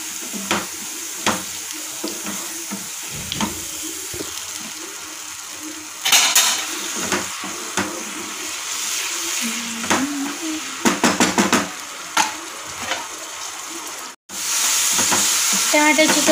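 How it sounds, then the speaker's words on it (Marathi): Tomato puree fries in hot oil in a pan, giving a steady, close sizzle broken by repeated scraping and stirring clinks of a utensil, with a brief dropout before the sizzling resumes. "टमाट्याची प्युरी आपण छान तळून घेणार आहोत तेलामध्ये, तेल सुटेपर्यंत."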